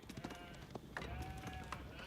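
Sheep in Age of Empires 4 bleat faintly in short repeated calls beneath busy game sounds and a talking voice, with light clopping and clicks scattered throughout.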